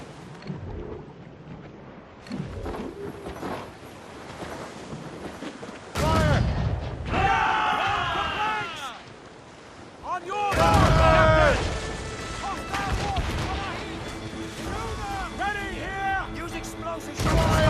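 Naval battle in Assassin's Creed Rogue, with ship cannons firing in heavy booming volleys over rumbling water and game effects, while voices shout orders over the loud bursts.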